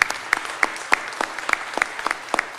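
Scattered hand claps from a small group at a conference panel, uneven and sparse, with a few sharp claps standing out.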